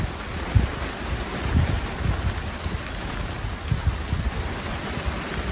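Rain patters on a greenhouse in a dense, steady wash of drops, with soft irregular thuds on the roof and panes, close and fairly loud, no voices.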